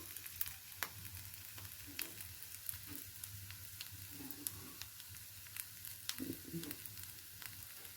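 Quiet, steady crackling sizzle of ground coriander and cumin frying in a pan, with scattered small pops and soft stirring scrapes throughout and no voices.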